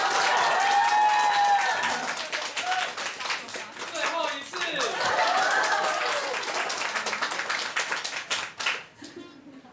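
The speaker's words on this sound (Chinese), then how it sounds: "各位给他掌声吧。" An audience at a small live music night in a café claps warmly for several seconds, with scattered voices mixed in and the applause thinning toward the end.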